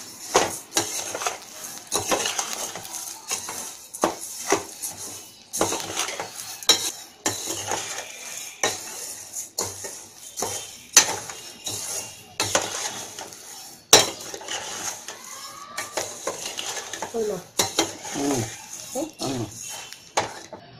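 Coriander seeds dry roasting in a pan for homemade milagai podi give off irregular scraping and rattling clatter from stirring, with sharp clinks of a utensil against the pan.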